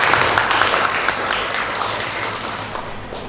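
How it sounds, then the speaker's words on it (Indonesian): An indoor audience at a teachers' training session claps for a speaker, a dense, even wash of applause that stays strong and slowly fades over a few seconds. "saya minta tolong tepuk tangannya untuk Bapak Rois"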